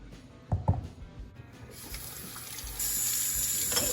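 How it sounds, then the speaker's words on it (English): Tap water runs into a kitchen sink to rinse scooped-out pumpkin seeds, a few soft knocks first, then a steady close stream that grows louder and fuller. "we're gonna take all these wonderful seeds and we're gonna go ahead and we're gonna rinse them"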